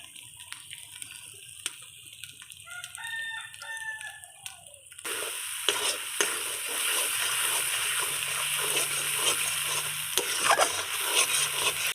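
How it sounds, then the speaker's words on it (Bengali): Spice paste for a desi chicken curry fries and is stirred in a pan, a soft sizzle becoming louder and denser partway through, with occasional scrapes; a rooster crows faintly in the background early on. "মশলাটা এবার আমি ভালো করে কষিয়ে নেব।"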